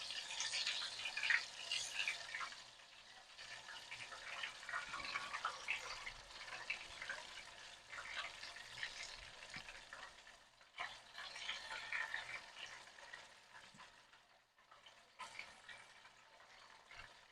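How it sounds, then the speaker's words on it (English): Battered cauliflower pieces deep frying in oil at 350, a steady crackling sizzle with bright bubbling that carries on throughout at moderate loudness, with no talk. "And we just gonna fry them up."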